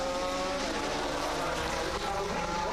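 GT race cars, including a Chrysler Viper, race at the Nürburgring in a continuous engine roar that holds steady across the whole stretch under faint trackside ambience.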